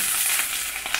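Chicken hearts fry steadily in a pan, a dense, even sizzle with crackling bursts and a few louder pops near the end, heard close and alone without any voices.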